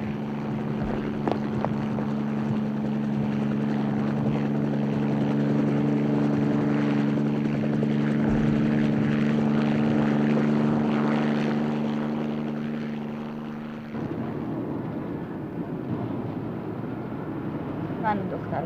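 A helicopter flying in a movie scene, its loud steady rotor drone droning on continuously and shifting partway through, with people talking and shouting over it.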